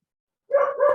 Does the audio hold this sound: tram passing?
no